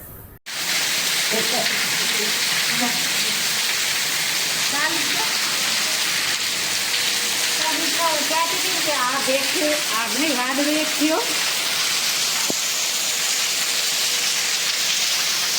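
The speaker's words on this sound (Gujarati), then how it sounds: "વાદળું એક થયું એટલે જો વરસાદ આવ્યો." Rain falls in a continuous broad hiss that stays even throughout, while voices talk quietly underneath.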